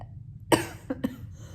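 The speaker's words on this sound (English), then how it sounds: "I'm coughing." A harsh cough followed by two smaller quick coughs, close and fairly loud against a quiet background.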